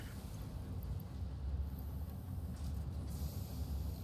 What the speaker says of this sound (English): Sounds like a train.